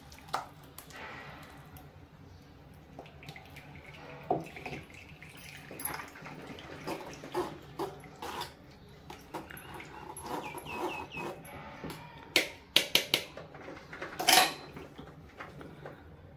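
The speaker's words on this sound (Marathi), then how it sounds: "ज्या भांड्यात आपण बनवणार आहे त्याच्यात मी हे गाळून घेते।" Tomato puree strained through a sieve into a cooking pot in a home kitchen, with repeated metallic scraping and clinking of utensils and a wet squishing, close and moderately loud, no talking.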